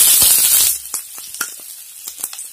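Cinnamon, cloves, star anise and cardamom hit hot oil in a pot with a loud initial burst of sizzling that quickly drops to scattered crackles and pops.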